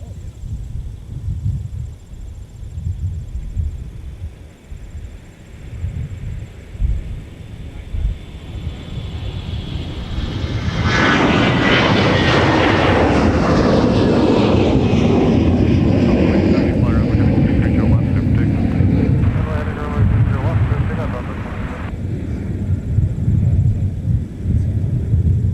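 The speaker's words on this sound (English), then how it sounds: "we got some more departures making their way off of 30 left" A jet airliner departs runway 30 left at Minneapolis–St Paul airport. Distant engine noise rises into a loud, sustained roar that builds and then slowly fades, with someone speaking throughout.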